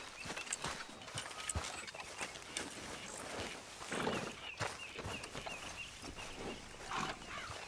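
Horse hooves clip-clop steadily in Red Dead Redemption 2, with a rhythmic trotting patter over continuous outdoor ambience and occasional louder thuds.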